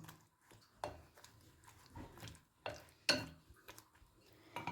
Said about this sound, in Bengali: সেই পেস্টটা এর ওপরে দিয়ে দিলাম ভালো করে একটু নাড়াচাড়া করে নেবো